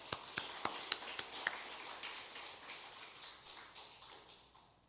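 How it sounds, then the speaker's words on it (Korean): A church congregation claps in a brief burst, a few sharp separate claps at the start that blur into a softer, scattered patter fading over several seconds, with no talking over it. "우리 한번 박수 한번 치고 가죠"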